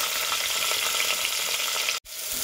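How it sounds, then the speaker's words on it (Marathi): Potatoes frying in hot oil for a mixed vegetable dish give a dense, steady sizzle close by with no voices, broken by a brief cut near the end before the frying resumes. "तर इथे बघा बटाटा देखील तेलामध्ये टाकलेला आहे."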